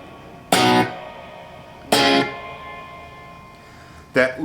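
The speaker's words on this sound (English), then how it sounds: "A little bit of good long reverb, which you can kind of hear if I do a staccato." Three staccato electric guitar stabs played through a Blackstar ID Core amp, each sharply cut off and followed by a long, fading reverb tail, spaced a second or two apart with quiet gaps between.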